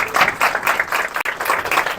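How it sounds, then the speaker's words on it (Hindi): Steady audience applause fills the whole stretch, many hands clapping together in a dense, continuous patter. "खड़े होकर तालियां बजाने के लिए।"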